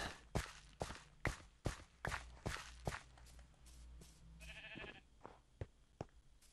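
Footsteps crunch rhythmically in Minecraft while a sheep gives a short, faint bleat midway through, the steps continuing around it.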